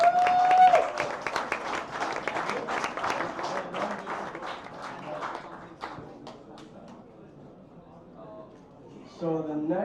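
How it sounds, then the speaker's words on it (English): Audience at an Astronomy on Tap science talk night claps warmly for about six seconds, the applause thinning out and fading into quiet room sound, followed by a voice at the end. "Let's give a round of applause for Fortune."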